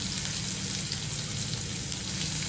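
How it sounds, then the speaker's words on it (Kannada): Steady, close sizzling of finely chopped onion frying with okra in hot oil, an even hiss running unbroken throughout with no talking. "ಇವಾಗ ಒಂದು ಈರುಳ್ಳಿನ ಕಟ್ ಮಾಡಿಟ್ಟಿದೆ ಸಣ್ಣದಾಗಿ, ಅದನ್ನು ಕೂಡ ಅದರಲ್ಲೇ ಆ್ಯಡ್ ಮಾಡ್ಕೊಳ್ತಾ ಇದ್ದೀನಿ."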